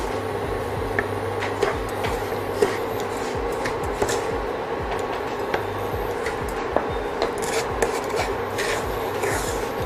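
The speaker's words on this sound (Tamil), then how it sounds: "அந்த சுகரை நம்ம ஆட் பண்ணி இது நல்லா கிளறி விடலாம்" Powdered sugar is stirred into moong dal halwa, giving a steady, close gritty scraping and rubbing with irregular light knocks throughout.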